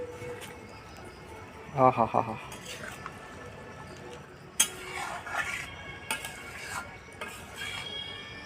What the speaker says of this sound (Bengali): এবার আমি ঢাকাটাকে খুলে নেব